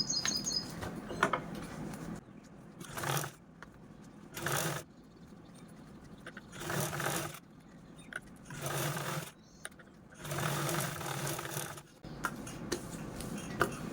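Sewing machine stitching a fabric pouch sewn from a single square of cloth, running in several separate bursts of a few seconds each with quiet pauses between, close and fairly clear.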